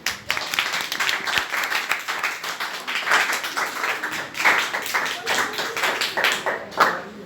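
Audience clapping at a Sahaj Yoga meditation session, a steady dense round of applause from many hands, fairly loud and sustained throughout.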